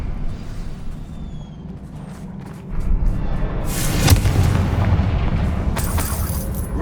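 Explosion spells in the Hogwarts Legacy video game go off with a deep rumbling boom that rises midway, followed by a sharp bright burst near the end over a steady low background.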